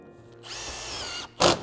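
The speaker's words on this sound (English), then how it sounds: "And I'm gonna put 3 screws. So 1 on each end, and then 1 in the middle." Power drill driving three screws into metal roofing panels on a standing seam versus G-rib roof, a steady whining motor run of under a second followed by a short, louder burst as the screw seats, close by and alone.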